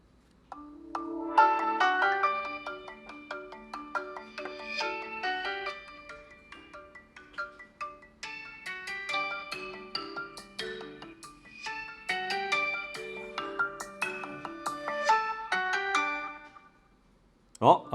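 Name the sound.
Huawei Mate50 Pro phone ringtone playing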